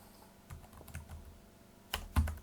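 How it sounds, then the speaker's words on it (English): Keys clatter on a computer keyboard as an email address is typed, an uneven run of close clicks that ends in a louder burst of strokes. "So you're going to type in the email address for that first employee"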